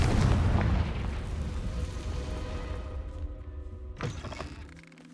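The Confringo spell going off in the video game Hogwarts Legacy, opening on a loud booming blast that rumbles and fades over a few seconds, with a second, smaller burst near the end.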